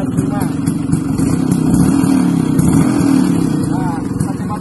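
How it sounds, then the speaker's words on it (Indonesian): A 1984 Vespa PX Sport scooter engine idles and runs steadily up close, a continuous loud putter throughout, with someone talking over it. "Satu kali selang, langsung jalan. Berarti motor ini benar-benar dalam kondisi yang sehat dan prima."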